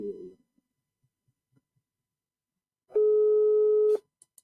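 A telephone tone sounds once for about a second, a steady electronic ring or beep heard clearly on its own, after a short burst of faint voice at the start.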